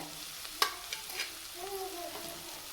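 Tomato chutney ingredients sizzle softly in a pan while being stirred with salt, close, faint frying with a few light scrapes and taps of a spoon against the pan.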